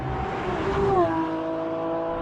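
A 770-horsepower V12 mounted in the back of an Italian supercar roars under hard acceleration, its tone sweeping down through a gear change around the middle, heard steadily loud from close by with no talk.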